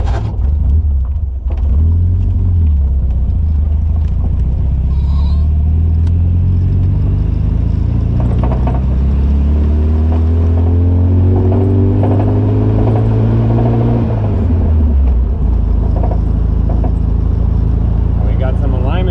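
MGB car engine started after sitting ten years, running loud and close with a rough idle and rising and falling revs, with people talking over it.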